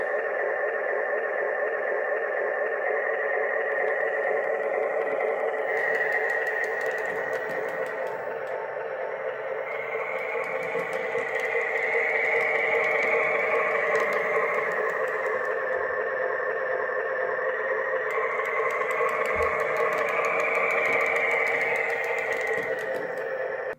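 A Menards toy train engine's sound unit holds a steady electronic diesel idle, rising and falling in pitch as it revs up and slows back down, continuous and close, with no talking.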